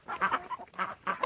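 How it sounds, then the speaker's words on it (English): Ducks quacking close by during a morning bird feeding, three short bursts of raspy calls in quick succession. "You can't hear him over the ducks."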